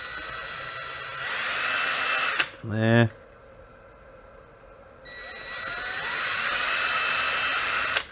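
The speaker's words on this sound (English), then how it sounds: "I'm just going to drill a little pilot hole" A power drill bores a small pilot hole in a loosely held part clamped in a small vise, fitted for an electric kayak motor mount: one short, close, rising whine of under a second, with someone speaking briefly before and after.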